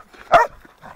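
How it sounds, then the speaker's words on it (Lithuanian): A single sharp dog bark, close and loud, with faint rustling before and after. "Geras, geras šuo, geras."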